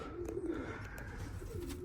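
Soft, low pigeon coos roll in a steady murmur, close and continuous, with a faint background hum.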